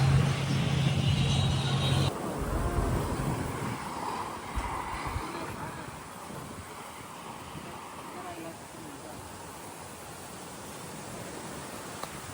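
Strong, hot summer wind blowing outdoors in Beed district, Maharashtra, a steady broad roar with gusty rumble throughout. A vehicle-like hum fades out early on.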